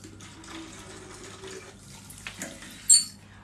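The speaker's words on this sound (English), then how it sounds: "So let me put the water first." Water runs from a tap into a bottle for a vinegar scalp rinse, a steady close trickle with a brief splash near the end.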